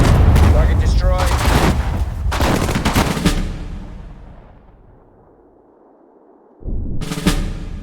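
Rapid machine-gun bursts and rifle shots crackle loudly in the Sudden Strike 4 World War II strategy game during the Operation Overlord battle, then fade into a quiet rumble before another sharp volley erupts.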